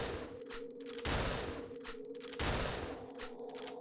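Gunfire in the video game Pagan: Autogeny, two loud bursts of repeated shots about a second and a half apart, each followed by a ringing tone.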